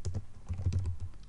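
Fast, soft clicks of typing on a computer keyboard, a brief close burst of irregular keystrokes with no voices.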